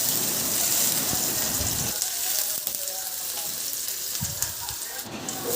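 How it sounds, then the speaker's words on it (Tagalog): Garlic sautéing in a little oil in a hot pan, a steady close crackling sizzle with occasional soft stirring scrapes, continuous throughout with no talking. "Igisa ko na rin yung bawang."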